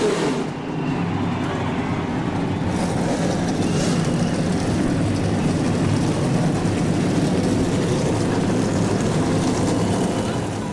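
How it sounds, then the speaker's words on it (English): A dense rumble of many stock car engines idles and rolls together, loud and continuous, with a crowd-like wash of noise behind it, at the start of a NASCAR Daytona 500 race. "They've got those engines fired and they are rolling off now."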